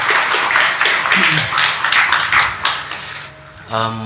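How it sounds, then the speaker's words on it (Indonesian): An audience at an indoor talk event applauds for speaker Kang Abu, producing a loud, dense wash of clapping with voices mixed in, before it fades out near the end. "Tepuk tangan dulu buat Kang Abu ya"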